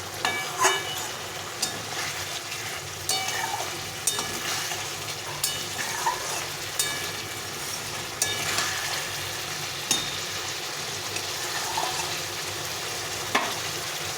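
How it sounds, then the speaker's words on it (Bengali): A spice paste cooks down in a pan for a fish curry with raw banana, giving a steady close sizzle and hiss broken by scraping stirs about every second or two, with no talk. "মশলাটাকে ভালো করে কষিয়ে নিতে হবে তেল ছাড়া দিয়ে।"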